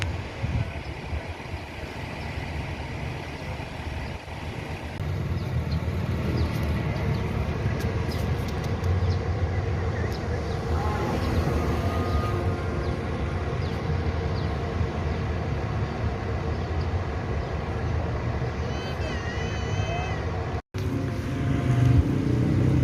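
A Mior bus drives along a road in West Sumatra, giving a steady, moderately loud engine and road rumble that holds without a break, with a short dropout near the end.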